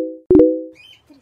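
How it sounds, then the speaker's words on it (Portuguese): A small bird gives a few clear, tonal chirps, loud and close, with a quick fluttering note in the middle and faint softer sounds trailing after. "Um passarinho, gente, que passarinho é esse?"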